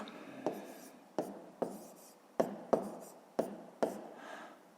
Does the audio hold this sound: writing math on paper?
yes